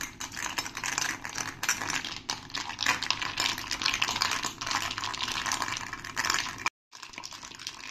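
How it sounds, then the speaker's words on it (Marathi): Cream and ice cubes whisked hard to churn butter, a steady wet rattling and sloshing that goes on continuously and close up, broken by one brief pause near the end; no one talks. "बर्फ टाकते मी, आणि आपल्याला छान फेटून घ्यायचं."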